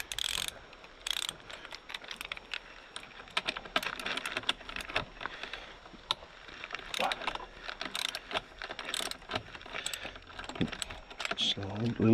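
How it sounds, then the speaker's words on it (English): Torque wrench with an 8mm X bit ratcheting on the chain adjuster of a Kawasaki Z1000SX motorcycle, a run of quick close mechanical clicks and clatters continuing steadily, with brief talk in the background. "I'll just use my torque wrench for this because it fits."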